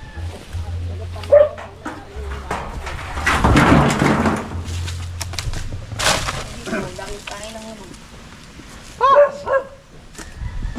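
An abandoned dog in a village in Mindoro, Philippines, barks several times outdoors, the barks scattered among people talking and background noise.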